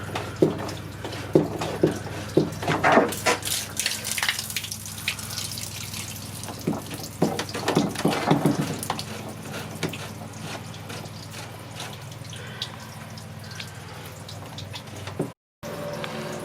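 Water draining from a pool chlorinator, a steady close trickle with scattered drips and splashes, busier in the first few seconds and then settling into an even flow before a brief dropout near the end.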